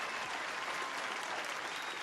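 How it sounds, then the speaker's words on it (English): Faint, steady clapping from a podcast audience, soft and distant, continuing throughout. "Round of applause to the supporters."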